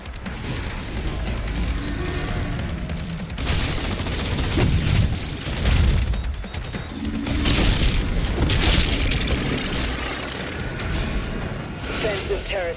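Repeated heavy blasts and bursts of gunfire pound defensive turrets in Doom The Dark Ages, loud and dense over a rumbling battle bed, with a few sharp booms standing out across the stretch.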